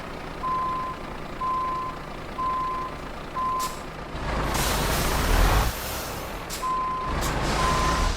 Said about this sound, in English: get ourselves in reverse, get this thing turned in towards our